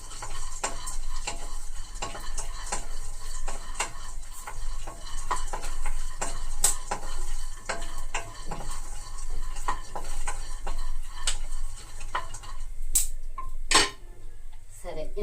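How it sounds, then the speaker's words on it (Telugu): Pieces of palm fruit (ice apple) fry in a pan, a steady soft sizzle broken by frequent sharp clicks and scrapes of stirring, with a voice talking at moments. "ఇవి కొంచెం రంగు మారే వరకు వేయించుకుంటే సరిపోతుంది."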